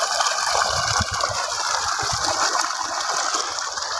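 Water gushes loud and steady from a 4-inch, 15 hp submersible pump powered by 36 solar panels, a continuous close roaring rush with no talking.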